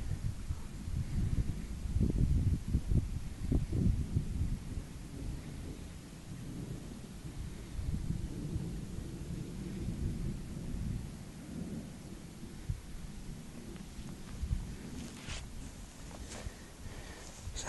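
Thunder rumbles through a Dartmoor summer thunderstorm around a 3x3 metre tarp camp, with heavy low rolls building early and fainter distant grumbling continuing, steady outdoor ambience throughout.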